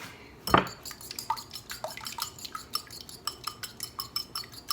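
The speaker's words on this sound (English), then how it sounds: "whisk that up really good because you want it to be evenly distributed" Eggs whisked in a bowl with a utensil: a loud initial clatter, then a steady run of quick, close metallic clinks against the bowl, no voices.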